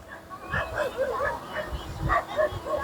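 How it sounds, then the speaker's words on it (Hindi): Dogs barking and yipping in the background outdoors around sunset near hills, a series of short repeated barks at moderate distance over steady ambient noise. "कुत्तों की आवाज़ें आ रही हैं"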